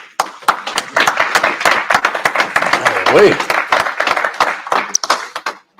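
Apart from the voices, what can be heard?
audience clapping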